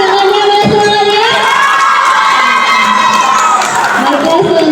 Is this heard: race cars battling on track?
no